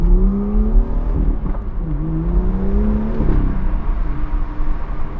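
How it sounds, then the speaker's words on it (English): A BMW F87 M2 with the turbocharged N55 engine accelerates through rising and falling revs with gear changes, loud and close from inside the car, no talk. "N55, it's the pinnacle of turbocharged BMW sound to me."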